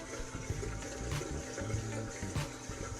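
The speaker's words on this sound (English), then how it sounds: "Cold water, rinse with cold water." Running cold water from a tap splashes and trickles close by as a face is rinsed with a wet cloth after shaving, a continuous watery wash without speech.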